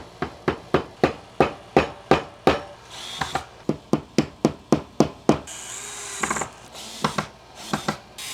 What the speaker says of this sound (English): Grab a hammer, you're gonna need one.